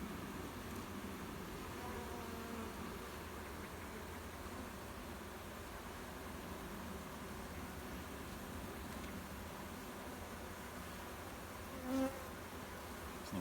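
Honeybees hum continuously from an open hive in a steady, dense drone. The droning holds an even level throughout, with a brief small knock near the end.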